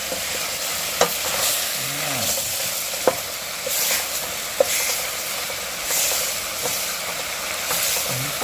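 Banak fish frying in oil fill the space with a continuous loud sizzle and hiss, with occasional sharp pops and crackles breaking through the steady bubbling.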